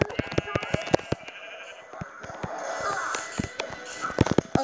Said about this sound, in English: Oh, and look, it's a sheep.